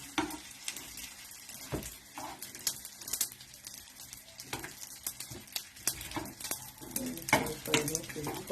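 Fish fry in a modest amount of oil in a pan, a soft continuous sizzle broken by clinks and scrapes of a utensil, close and quiet, with a little talking toward the end.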